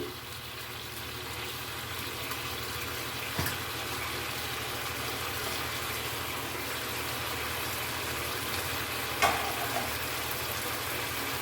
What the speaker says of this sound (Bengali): দই দিয়ে একটু কষবো